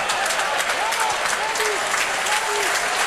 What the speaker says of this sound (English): Every pass being applauded now